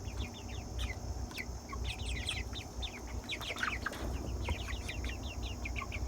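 Red Ranger chickens five weeks old, a farm flock, give off steady clucks and chirpy calls throughout, with occasional wing flaps, moderately close over a constant low rumble of background noise.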